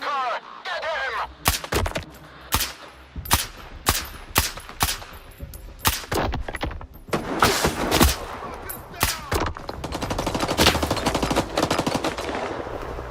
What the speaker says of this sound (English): He's trying to shoot me through the building